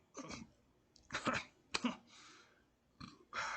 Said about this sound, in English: What's with this fucking burp?